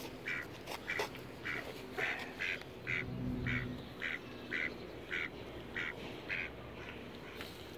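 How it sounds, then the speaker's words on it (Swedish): A duck quacks about a dozen times in a steady, evenly spaced series, fairly close and clear, with outdoor background noise and a brief low rumble in the middle. "Fort, nu kommer ankan här."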